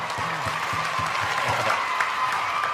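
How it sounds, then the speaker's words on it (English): A studio audience on a talk show claps in a steady, dense round of applause that holds at full strength throughout, with faint voices mixed in. "I want to give a round of applause to Dr.Eug, a.k.a. V. Diddy,"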